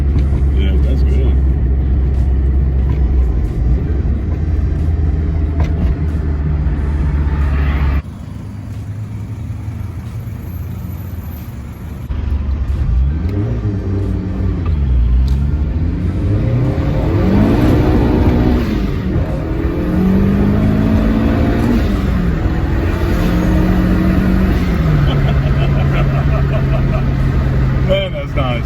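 A turbocharged 1987 Acura Integra without power steering drives along, its engine droning steadily from inside the cabin, dipping briefly, then rising and falling through gear changes while people talk over it.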